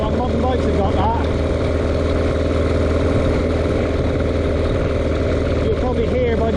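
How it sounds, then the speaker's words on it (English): A vintage 2.25 horsepower motorcycle engine labours steadily uphill during a vintage bike ride, a constant loud mechanical drone with a shifting note running throughout, with voices talking over it. "You'll probably hear by the engine note changing how it labours."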